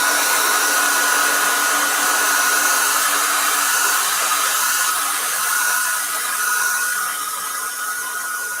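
Hair dryer blowing steadily over wet acrylic paint on a cherry blossom tree painting, a loud continuous whirring hiss with a faint tonal hum that stays constant throughout, no talking.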